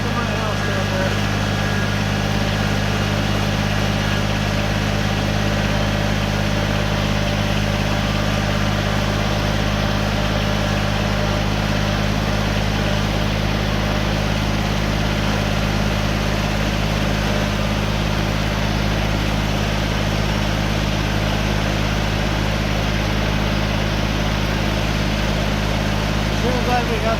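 A tractor engine runs steadily and close by, a continuous droning hum with no breaks, while it hauls river rock for a backyard swale project.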